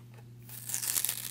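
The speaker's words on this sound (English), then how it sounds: "there's stickers on the side here, and I can start peeling this one off" An old sticker with aged glue is peeled off the side of a Hungarian Rings puzzle: a faint, close crinkling and tearing that grows louder partway through, with no one speaking.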